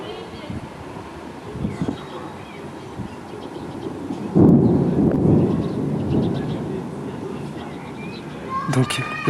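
Thunder rolling during a June thunderstorm over Sallanches, a deep rumble swelling midway and lingering, with a few sharper cracks near the end amid steady outdoor background noise.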